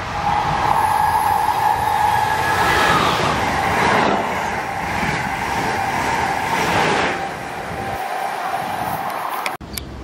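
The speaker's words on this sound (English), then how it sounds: "Train approaching. Please remain behind the yellow line." A train rumbles into a station, steady roaring rail noise with screeching wheel tones that gradually eases as it slows.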